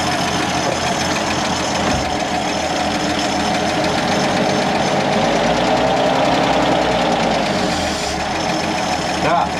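A Bedford QL truck engine idles loud and close in a continuous rough, knocking drone. A voice is heard over it.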